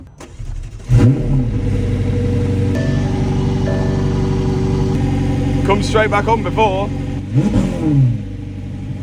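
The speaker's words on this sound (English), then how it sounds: "You can see it going off revving." A car engine idles and then revs up in repeated surges, close by, while someone speaks briefly over it.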